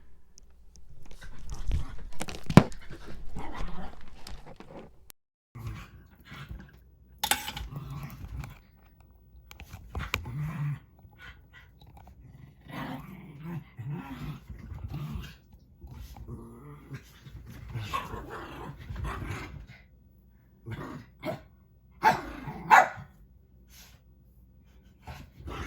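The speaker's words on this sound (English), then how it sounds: "I'm going to try to calm my dogs down" Several dogs pant, growl and bark indoors in uneven bursts, with crunchy chewing-like scuffles and occasional quiet human whispering mixed in, loud near outbursts separated by brief lulls.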